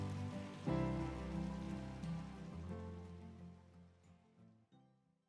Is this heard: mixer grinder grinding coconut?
no